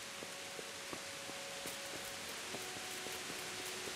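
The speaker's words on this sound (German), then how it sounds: "Mensch, ist das regnerisch heute hier in Rattay." Rain falls steadily over the town of Rattay in a video game: a soft, even wash of pattering drops, with faint tonal plinks and ticks scattered on top, and no voices.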